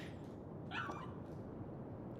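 A dog yips and barks once in a short burst, heard from nearby but somewhat muffled over a steady, noisy background hum.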